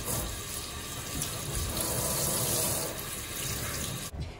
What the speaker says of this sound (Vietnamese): Rồi mình rửa cho nó chảy với vòi nước vậy là được rồi.